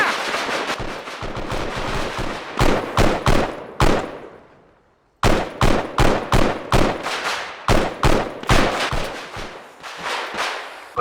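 Loud bursts of gunfire in Arma 3 crack in rapid, uneven volleys of single shots and short strings, broken by one brief silence before firing resumes.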